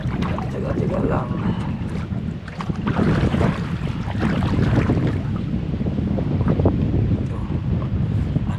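Steady, heavy wind buffeting the microphone, a continuous low rumble with gusts that swell and fade throughout.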